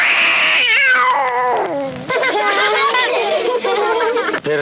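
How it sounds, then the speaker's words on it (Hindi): A kitten in a basket gives loud, drawn-out meows that rise and fall in pitch, repeating almost without pause from start to finish, close and prominent. "टोकरी में एक बिल्ली का बच्चा"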